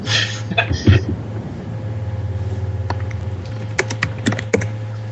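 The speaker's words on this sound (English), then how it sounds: "Who's typing?" Someone types on a computer keyboard in short bursts of clicky keystrokes over a steady low electrical hum, with a faint voice briefly in the background.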